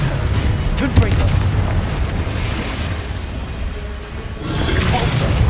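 The Confringo explosive spell in Hogwarts Legacy on PS5, a booming blast followed by a long rumbling roar that fades and then swells again, with spell-casting voices mixed in.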